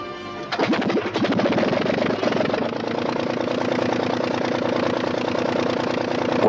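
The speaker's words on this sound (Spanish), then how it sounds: "El motor marcha a pedir de boca." Anzani engine on a Blériot monoplane starts and then runs steadily and loud, a continuous throbbing drone with no talk over it.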